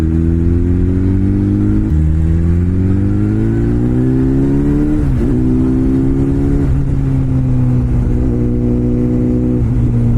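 A BMW S1000 RR motorcycle engine pulls steadily in 4th gear on a mountain road. The close, constant drone rises and dips in pitch as the throttle changes, with a continuous whir of wind and no gear shifts.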